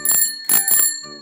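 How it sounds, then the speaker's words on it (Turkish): A bicycle bell rings in three quick bright bursts followed by a fainter fourth ring, close and clear with no other sound. "Bisikletin zili işte böyle çalar."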